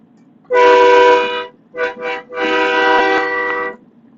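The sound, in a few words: train horn installed on a pickup truck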